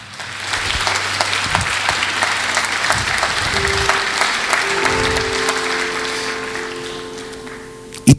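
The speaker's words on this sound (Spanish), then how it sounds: "¿Cuántos le dan un aplauso al Señor?" A church congregation breaks into sustained applause, a dense wash of clapping that swells, holds for several seconds and slowly tapers off.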